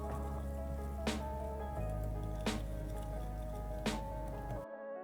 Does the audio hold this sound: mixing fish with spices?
yes